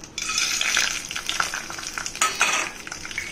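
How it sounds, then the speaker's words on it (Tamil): Peanuts dropped into hot oil with a little ghee in a pan while making coriander rice, giving a steady close sizzle with scraping stir strokes and a brief louder burst midway, no talk. "எண்ணெய் காஞ்சிச்சுங்க, நிலக்கடலை போட்டுக்கலாம்."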